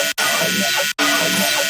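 A sustained dubstep synth tone holds steady, cut by two brief gaps where a one-shot hit retriggers, loud and continuous without voices.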